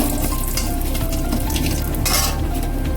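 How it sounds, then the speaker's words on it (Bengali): A bay leaf sizzles in hot oil as the tempering for Bengali shukto, a loud, steady, close frying hiss with faint stirring and pan clinks and no talking. "তেজপাতাটা ফোড়ন দিয়ে দেবো"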